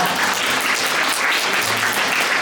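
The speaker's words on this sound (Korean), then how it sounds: "박수 한번 부탁드립니다." Wedding guests applaud in a steady, dense wash of clapping that holds evenly from start to finish, fairly close and loud.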